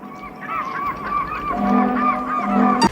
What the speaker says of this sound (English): they always play the sounds of seabirds just to build up the environment